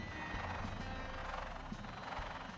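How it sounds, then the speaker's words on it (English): A police drone hovering overhead in the point-and-click game Retropolis, a steady whirring, rotor-like hum that stays constant and moderately quiet throughout. "a police drone. They don't usually come to these parts of the city."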